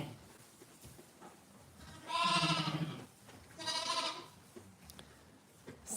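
Two loud, drawn-out sheep bleats ring out in a lambing shed, each lasting about a second, with quiet rustling between them and no talk.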